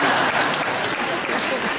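Crowd clapping at a Comic Con fan panel, a dense steady burst of applause from many hands filling the hall, loud and continuous throughout.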